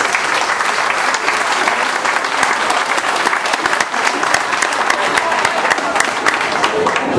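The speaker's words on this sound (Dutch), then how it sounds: "nog een applaus voor de jonge dames en heren" A crowd applauds young ladies and gentlemen from a primary school at a carnival event, dense steady clapping filling the whole stretch at close range, with a faint murmur of voices underneath.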